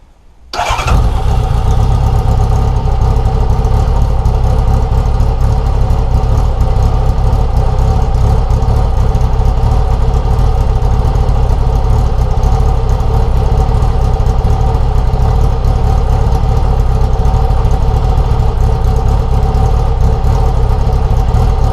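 A Kawasaki Z motorcycle with a fuel pump fault, recently dosed with Redex injector cleaner, fires up after a brief crank and then idles loudly and steadily close by for the rest of the time, with no voices.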